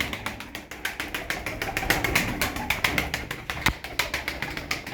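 Taklacı tumbler pigeons coo in a loft, a steady run of soft rhythmic coos and pulsing calls close by, with a louder tap near the end and no talk.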